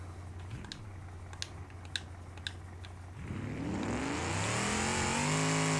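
In the BeamNG driving game, a car engine idles low while keys click faintly, then revs up hard and climbs to a loud, strained, sustained roar.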